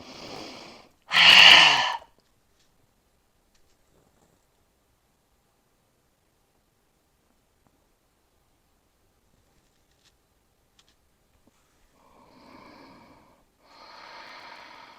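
A deep, forceful breath drawn in during a throat chakra breathing exercise, loud and close, followed by long silence and softer breathing near the end.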